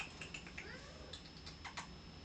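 A pet cat meows faintly in a quiet indoor room, giving a brief rising call around the middle, mixed with soft clicking taps like typing on a computer keyboard, with no talk.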